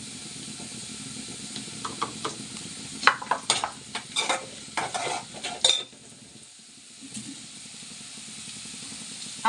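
Onions and spinach frying in a pan sizzle steadily while a spoon scrapes and stirs in a burst of quick clattering strokes, then the hiss continues alone.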